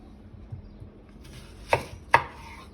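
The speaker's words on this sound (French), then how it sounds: "Après, on va couper nos légumes." A knife chops onion and spinach on a board, a couple of faint taps early followed by two sharp, close, loud chops about half a second apart, with no one speaking.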